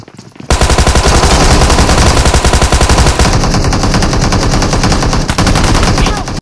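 Loud, rapid automatic gunfire from the PUBG Mobile battle royale game rattles in long sustained bursts, close and dominant after a short quiet start, with the firing rhythm shifting partway through.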